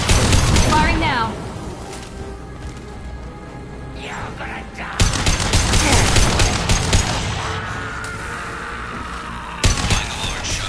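Rapid bursts of gunfire from the Mass Effect 2 video game, loud and dense volleys in waves with brief lulls, with game voices speaking over the shooting.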